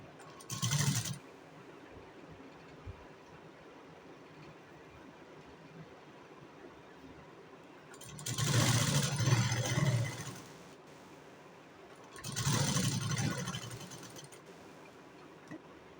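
Sewing machine stitching the waist side of a boat neck blouse in three separate bursts, one short and two longer runs of a whirring motor, close and moderately loud, with quiet pauses between.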